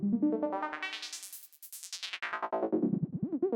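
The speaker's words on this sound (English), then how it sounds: "when we go on to the sort of more squelchy or static tone sound" A squelchy, static-toned Serum synth lead runs through a sweeping filter, its bright buzzy tone opening up then warbling back down in a rapid, gurgling pattern, heard alone.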